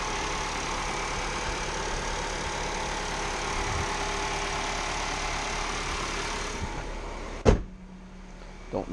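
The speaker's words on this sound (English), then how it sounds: "And there's your four-cylinder engine." A 2019 Nissan Altima four-cylinder engine idles with a steady, even hum, then a sharp mechanical clunk near the end and the hum drops away.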